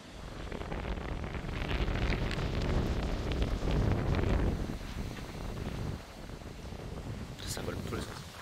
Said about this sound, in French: Ça c'était du coup de vent.